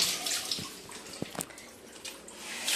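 Tap water running into a bucket, a steady close splashing hiss with a few small drips and knocks, no talking.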